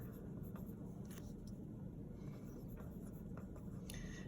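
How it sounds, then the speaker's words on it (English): A pen scratches notes onto a blank sheet of paper in soft intermittent strokes, faint and close over a steady low background rumble. "So I'm going to write exponents."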